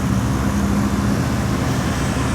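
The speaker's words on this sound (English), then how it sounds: "So the traffic is really busy here." Busy noon traffic at the large Penampang roundabout, a dense steady roar of passing vehicles with a low engine hum, loud and continuous with no talk.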